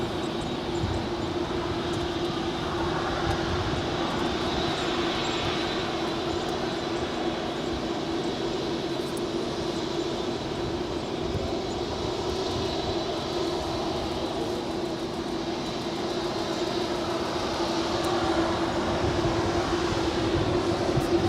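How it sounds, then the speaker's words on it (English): An Atlas Air Boeing 747 rolls down runway 25 right at Los Angeles International Airport on its takeoff run, giving a steady, loud, broad engine roar that holds for the whole stretch with no talk. "The Atlas Air 747, I think, is now rolling down 25 right."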